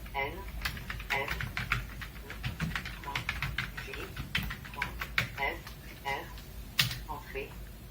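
Keyboard shortcuts tapped on a computer keyboard to drive a screen reader, giving quick runs of crisp key clicks close by, mixed with synthetic and spoken voices throughout.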